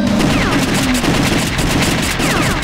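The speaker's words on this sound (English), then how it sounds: "He's shooting with a handgun and he has just fucking epic reloading skills." Rapid handgun fire in The House of the Dead 2 arcade shooter, a loud, dense string of sharp gunshots repeating steadily throughout, with game effects and a bright ringing tone mixed in.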